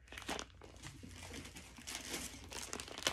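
Large plastic gallon bags filled with baby clothes are handled up close, giving brisk crinkling and crackling rustles that swell and fade over a few seconds, no speech.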